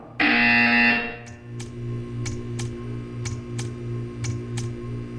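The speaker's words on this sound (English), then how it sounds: "When you hear the buzzer, stare at the art." A loud, harsh buzzer blares for about a second in the video game Portal 2, followed by a series of sharp, evenly spaced ticks over a steady low hum.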